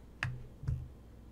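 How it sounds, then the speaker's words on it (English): Two crisp computer mouse clicks on a Mac, close and distinct, about half a second apart, in a quiet room. "I'm going to right click on the photo and get info."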